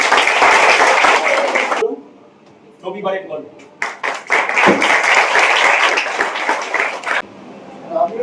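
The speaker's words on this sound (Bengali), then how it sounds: "নেতাজি নগর সরস্বতী নাট্যশালার পক্ষে একটু হাততালি দিয়ে" An audience at a theatre group's school workshop applauds a head teacher, with loud, dense clapping at the start. A voice speaks during a pause, then a second long round of applause follows.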